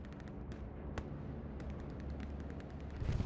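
Bombing run with gunfire in a tactical military video game, a dense rolling rumble of explosions under sharp bursts of gunshots, fairly faint and distant throughout.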